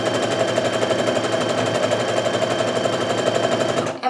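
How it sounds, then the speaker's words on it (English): A sewing machine stitches rows of a quilt top together, a loud, continuous rapid mechanical chatter running steadily up close, then stopping abruptly at the end, with no voices. "So now I can just go ahead and start sewing."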